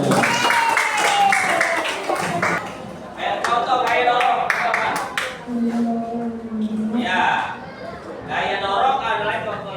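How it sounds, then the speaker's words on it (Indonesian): Elementary school classroom applause for a student: a burst of clapping from children mixed with excited chatter, while a teacher talks over the room. "Ayo Banu, kasih tepuk tangannya untuk Banu."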